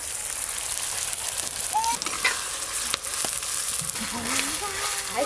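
Bay leaves and dry red chillies fry in hot oil as a tempering for a thin mutton curry, giving a loud, steady close sizzle and crackle with a few scraping stirs and some background voices.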